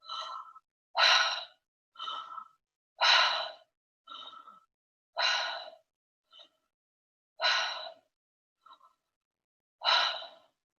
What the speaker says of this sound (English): we're going to breathe in and out through our mouth about 5 times without any pauses